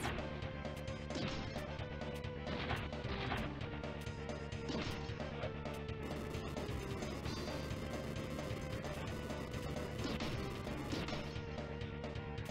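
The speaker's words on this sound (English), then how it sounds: "just get in there, just start punching the shit out of it" Repeated punches landing on the brain mainframe boss in a Mighty Morphin Power Rangers video game: rapid, regular smacking impacts over busy game music and effects, faint and continuous.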